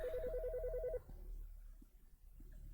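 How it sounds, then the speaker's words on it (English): A phone rings in the video game Autopsy Simulator, a clear warbling electronic trill repeating steadily for about a second before cutting off, then starting again at the very end, over low room hum. "The fucking phone."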